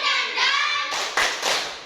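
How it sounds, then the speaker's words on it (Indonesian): Children chant a rhythmic clapping cheer, tepuk semangat, their voices singing together before a few sharp, evenly spaced claps ring out close by. "Tepuk semangat"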